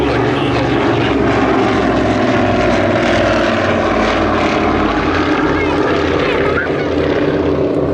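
An Avro Anson twin-engine propeller aircraft passing at an airshow, its loud, throbbing engine drone filling the air steadily and close throughout.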